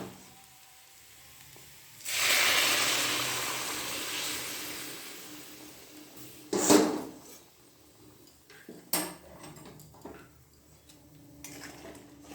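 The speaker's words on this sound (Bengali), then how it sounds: "গরম জলটা ঢেলে দিয়ে দিলাম" Hot water is poured into a pan of vegetarian potato curry (alur dom), setting off a loud hissing sizzle that fades, followed by scattered clinks of a utensil against the pan.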